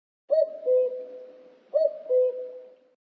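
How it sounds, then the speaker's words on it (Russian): A cuckoo calls twice, each a clear two-note falling cu-ckoo, near and distinct against silence. "Кукушка."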